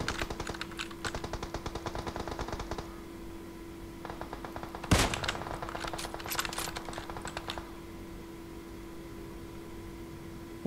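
Gunfire in the PUBG Mobile game crackles in rapid automatic bursts, with sharp clustered shots in several runs and a louder single blast near the middle, all without speech.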